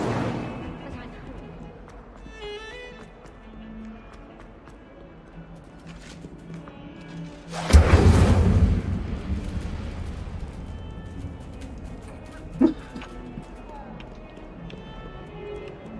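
Incendio fire spell cast in a Harry Potter video game, a sudden loud burst that roars for about a second and then trails off into a crackling wash over quieter game ambience, with a sharp thud later.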